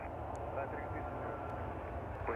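A United Airlines Boeing 787 Dreamliner takes off at Chicago O'Hare, heard as a steady, broad, distant jet engine roar that holds level throughout.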